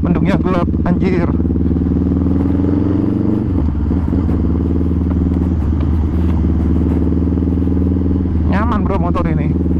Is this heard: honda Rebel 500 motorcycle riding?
yes